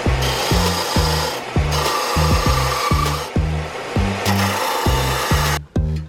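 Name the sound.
Central Machinery belt and disc sander sanding wood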